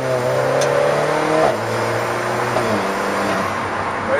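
An Alfa Romeo 4C's rear-mounted 1750 cc turbo engine, driven through a dual-clutch TCT gearbox, revs up close and loud, its note climbing, dropping sharply at a shift, then climbing again.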